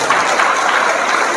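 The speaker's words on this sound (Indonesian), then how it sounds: "Tepuk tangan lagi." Audience applause at a religious lecture in Indonesia: dense, steady clapping from a crowd, loud and close, with no voices over it.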